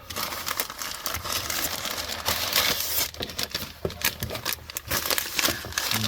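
Brown packing paper crinkles and crumples during an unboxing, a busy close rustle with sharp crackling bursts throughout and no speech.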